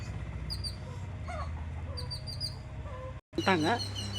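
Ducks at a farmhouse let out repeated nasal calls, a few bursts close by, over a low steady background hum, with a louder wavering call near the end.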